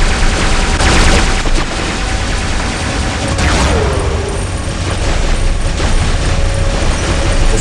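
Heavy shotgun fire from mech combat in War Robots goes on constantly, a loud dense barrage of overlapping blasts and mechanical clatter with no quiet gaps.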